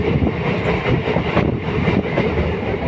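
Passenger train creeping slowly on the outskirts of Sahibabad, heard from inside a carriage: loud, continuous low rumble with faint wheel clatter and no voices.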